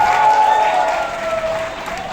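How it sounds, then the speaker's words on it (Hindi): Loud, sustained applause from a large audience at a Pathaan film success event fills the whole stretch, with a voice faintly audible through the clapping. "इसलिए आपके लिए एक बार जोरदार ताली।"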